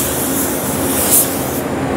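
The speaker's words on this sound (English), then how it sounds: "it's actually a pretty quiet spray gun as well" A Sagola Mini Extreme spray gun lays down a coat of paint, giving a steady, close, fairly loud hiss of atomized air that holds evenly throughout with a brief swell near the middle.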